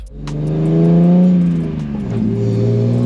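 A BMW E36 with a swapped S54 engine hums loudly and steadily, its pitch rising and dipping as it revs while the car drives, with no one speaking.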